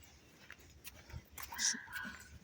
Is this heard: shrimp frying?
no